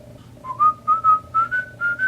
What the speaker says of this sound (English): Stop whistling so I can say hi